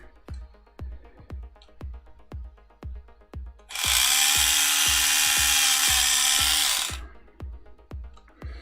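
A small hand drill whirs loudly for about three seconds while assembling miniatures, its motor pitch steady, while soft rhythmic ticking continues before and after.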